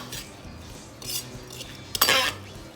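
Cilantro marinade for carne asada tacos being stirred in a bowl with a utensil, giving close clinks and scraping bursts, the loudest swirl near the end.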